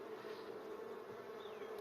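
Honeybees buzzing inside their comb in a small wooden box hive closed with a wooden piece, a steady, close, soft drone with no voices.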